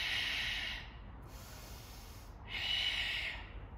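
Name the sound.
exhaling breath during golf swing drill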